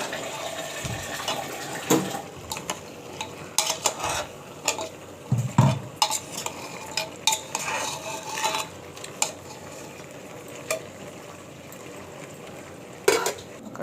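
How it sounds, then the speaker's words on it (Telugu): A spoon scrapes and clinks in a pan while goat head curry is stirred with its spice masala, giving irregular close metallic knocks and sizzling scrapes, with no voices. "మసాలా మిశ్రమాన్ని"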